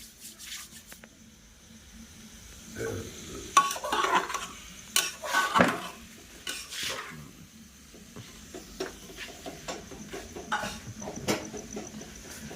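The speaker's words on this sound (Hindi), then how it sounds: "देखिए प्याज भुजाता" Onion frying in a pan for a home-cooked meal: a steady low sizzle runs throughout, broken by louder bursts of stirring and scraping against the pan in the middle.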